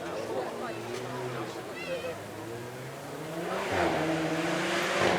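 An Alfa Romeo 4C with a 1.7 litre inline four turbo engine accelerating on a track, engine note climbing steadily and growing louder, with a person talking over it.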